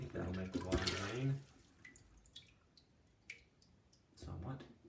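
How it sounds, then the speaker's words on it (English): Water drains and drips from a toilet bowl after plunging. Small dripping and trickling sounds fall between stretches of a person talking at the start and end. "I think that'll make the water drain"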